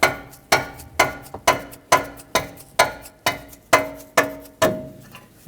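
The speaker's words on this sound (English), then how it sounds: "with a rubber mallet, I'm going to tap it" Rubber mallet strikes a 24mm wrench fitted on a rust-penetrant-sprayed control arm stud of a 2009–2019 Ford Flex, about a dozen sharp metallic taps in a steady rhythm roughly every half second, each ringing briefly, close and alone.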